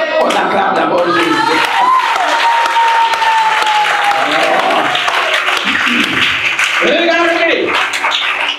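An audience applauds and cheers for Jesus, sustained loud clapping mixed with shouts and whoops, with voices calling out over the crowd throughout.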